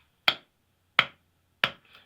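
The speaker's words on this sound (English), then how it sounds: "That should also give you an idea of when I clap and when the sound actually gets to the speaker" A person gives three sharp, isolated hand claps about 0.7 seconds apart in a quiet room while testing Bluetooth speaker latency, each clap decaying quickly into silence.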